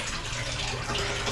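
Water gushes strongly from a tap into a container at home, a close, steady, full rushing and splashing that continues without a break.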